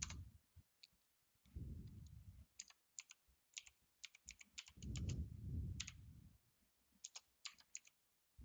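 Computer keyboard typing in short bursts of light clicks with pauses, close and quiet, while a person talks briefly in between.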